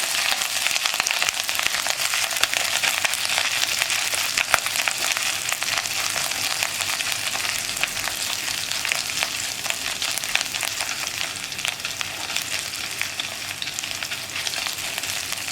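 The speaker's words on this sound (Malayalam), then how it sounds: "ഇഞ്ചി ഒന്ന് കുക്കായി വരുന്നത് വരെ ഒന്ന് ഇളക്കി കൊടുക്കുക" Crushed ginger frying in hot oil in a pan, a loud dense crackling sizzle that runs unbroken throughout with faint stirring underneath.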